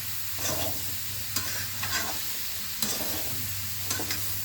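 Chappan kaddu sabzi, summer squash with spices, cooks in a pan with a continuous close sizzle while a spoon stirs and scrapes, giving several distinct knocks against the metal.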